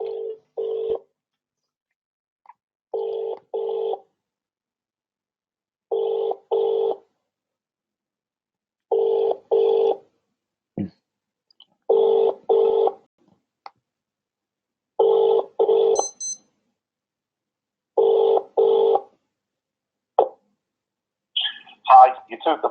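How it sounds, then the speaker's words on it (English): An outgoing telephone call rings on the line, paired ringback tones repeating at regular intervals over silence, followed by a faint voice at the end. "So I'm calling Barry now"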